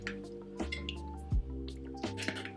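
Buffalo wing sauce is poured into a plastic squeeze bottle in a kitchen, giving soft glugging drips and a thick squishing gurgle in a few short bursts, close and quiet.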